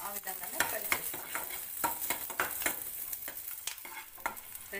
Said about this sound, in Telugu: ఇదే ఆయిల్లో ఆనియన్ కూడా ఆ విధంగానే ఫ్రై చేస్తాం